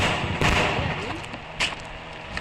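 A video game bicycle explosion booms loudly up close in an Indian bike game, then a second sharp blast follows over a rumbling, noisy backdrop.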